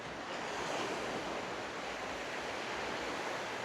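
Sea waves at Scarborough beach in North Yorkshire make a steady, broad wash of surf with some wind rumble across the microphone, moderately loud and continuous, with no voices.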